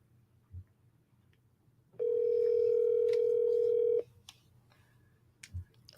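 Phone call dial tone, a single loud steady electronic tone lasting about two seconds amid faint background noise and a few soft knocks.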